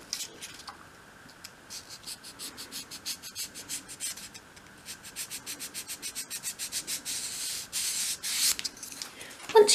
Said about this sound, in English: Once you've sanded, always get rid of your sanding dust